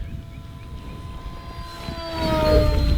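A brushless electric Durafly MFX Racer RC plane flies fast overhead, its high motor whine rising and growing louder as it approaches, with a pitch shift as it passes.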